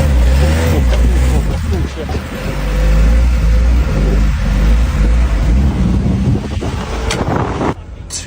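A car with 203,000 km on it accelerates hard, its engine roar half buried under heavy wind buffeting against the microphone, with a brief exclamation from a voice.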